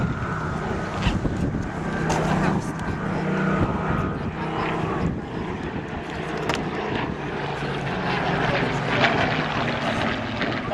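A Hawker Hurricane, the last one ever built, flies at the 2017 Wales National Airshow, a steady propeller-engine drone that holds loud and continuous for about eleven seconds with outdoor wind noise.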